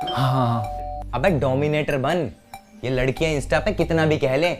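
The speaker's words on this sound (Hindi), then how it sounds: "कब से डोरबेल बज रही है," A two-tone doorbell chime rings at the very start, then people talk over it for the rest.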